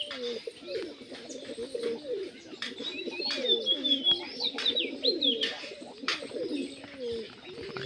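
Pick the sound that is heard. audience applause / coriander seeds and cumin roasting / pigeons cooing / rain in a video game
pigeons cooing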